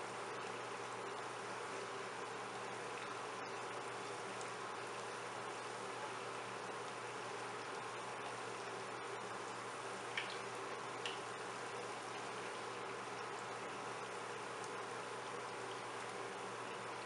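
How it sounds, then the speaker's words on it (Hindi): Moong dal mangore deep frying in hot oil, a steady, even sizzle and bubbling hiss holding at a constant level throughout, with no talk over it. "मंगूरों को हमने बिल्कुल क्रिस्पी फ्राई करना है।"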